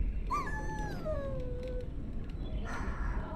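A dog in Dragon Age lets out a long, drawn-out whimpering howl that slides downward in pitch, followed by a brief quieter whine, close and clear over faint background ambience.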